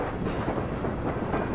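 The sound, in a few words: train in the video game Syberia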